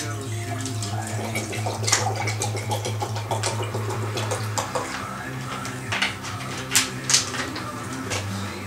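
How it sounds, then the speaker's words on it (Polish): Water poured into a cup, a faint trickling splash under a steady low engine-like hum, with people talking at moments. "naleję sobie wody do mego"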